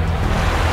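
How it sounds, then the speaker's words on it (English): Special-effect ocean waves at a studio stunt show at Universal Studios Singapore: a loud, broad rushing wash of water noise, steady and close, with no voices. "Cue the waves."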